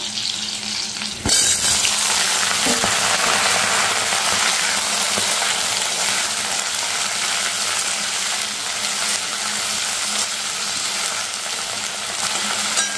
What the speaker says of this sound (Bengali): একটু ভাজা হোক, তারপর আলুগুলো দেবো।